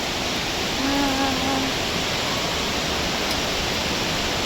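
Rushing water of Taytay Falls in Majayjay, Laguna roars as a steady, loud, broadband wash throughout, with no voices heard.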